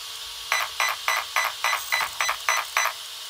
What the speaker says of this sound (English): There, beep 9 times, which is confirming that I am, in fact, on setting 9, level 9.